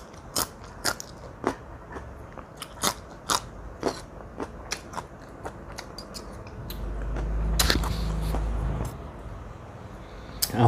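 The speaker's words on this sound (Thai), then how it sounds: "มากินขนมจีนซาวน้ำปลานะครับผม" Close-up eating of Thai rice noodles in fermented fish sauce topped with leucaena seeds from a large tray: a string of sharp, crunchy bites and chewing sounds over a quiet background, with a low rumble partway through.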